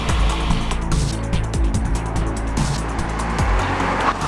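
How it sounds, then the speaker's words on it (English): Car accelerating hard from a standstill to 62 mph in sport mode, its engine note loud and sustained with stepped rises through the gears, heard from close by with no talk. "Okay, Patrick, first test, 0 to 62 miles per hour."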